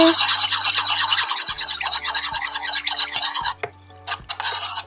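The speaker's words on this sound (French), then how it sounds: "Je vais utiliser le petit fouet et on va essayer de mettre ça délicatement" Small whisk beating a cosmetic cream emulsion in a bowl, a close, fast rhythmic scraping and rasping that continues steadily, then briefly drops away before resuming, with a low background hum.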